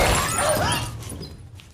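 A phone shatters from a sniper bullet in a film scene: a sharp burst of breaking glass and debris that rings briefly, then trails off into a fading scatter.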